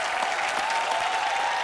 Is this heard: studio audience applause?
yes